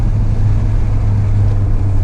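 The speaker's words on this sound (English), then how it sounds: "Turbo spools super hard." Hyundai Veloster N driving on the road, a steady loud low engine drone with heavy rumble and road and wind noise throughout, no distinct spool rise standing out.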